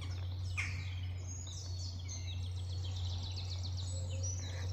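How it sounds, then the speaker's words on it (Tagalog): Several birds chirp and trill in high, quick phrases over a steady low hum, with no voices, like an outdoor chorus heard from some distance in a Belgian forest estate. "nakikinig sa mga awit ng mga ibon."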